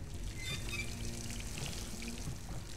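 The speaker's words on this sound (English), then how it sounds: "Alright, filling it with water." Water pours steadily into a sink in the video game Dishonored, a continuous hissing splash at moderate level without pauses or speech.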